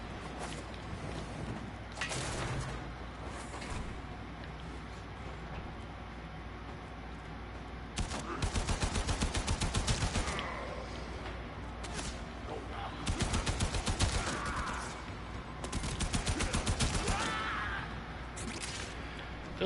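Bursts of rapid automatic gunfire in Warframe come in several loud, close volleys separated by quieter stretches, with a voice talking in between.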